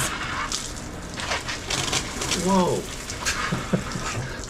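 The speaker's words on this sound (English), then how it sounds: "And so I turn on my faucet," An outdoor faucet is turned on and water sprays noisily from a leaking vacuum breaker, a steady rushing hiss with a startled exclamation over it.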